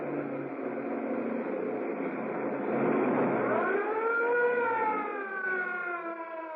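A wailing police car siren during a chase, steady at first and then rising and falling in long sweeping tones, loud and sustained with no voices.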